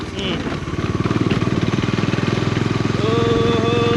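A motorcycle rides along a rural road, its engine throbbing in a close, steady rapid pulse that rises slightly in pitch toward the end.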